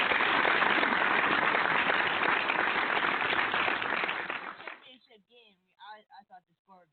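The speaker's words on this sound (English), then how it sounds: "let's applaud Reflections once again." Applause in a radio studio, a dense burst of clapping for about four and a half seconds that fades out, followed by brief talking.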